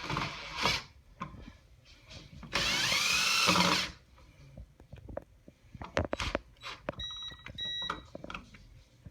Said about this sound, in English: I'm going to use a drill.